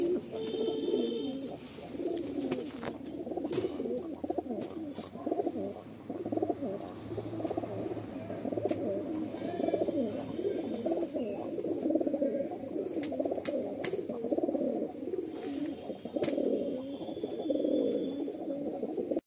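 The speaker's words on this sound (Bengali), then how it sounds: "এই যে পায়রা দেখো" Madrasi pigeons in a loft coo softly and continuously, a low throaty burbling that rolls on throughout, with a few faint chirps overhead.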